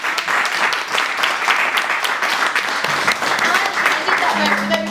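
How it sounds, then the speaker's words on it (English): Steady applause from a crowd, dense clapping filling the whole stretch at an even level, with a faint tone near the end. "So just a round of applause for our speakers."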